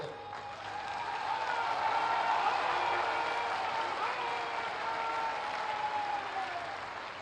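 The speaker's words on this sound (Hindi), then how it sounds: "आप लोग खड़े होकर के तालियों की गड़गड़ाहट से एक बार" A crowd at a public rally in Chandauli district stands and applauds to welcome the Chief Minister. The ovation is loud, continuous and rolling, with faint voices and tonal sounds mixed beneath it.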